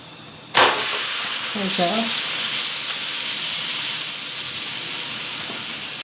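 Jowar-flour thalipeeth on a greased tawa over a gas flame bursts into a loud sizzle as oil hits it, then fries with a steady close hiss for several seconds. A brief voice is heard early on.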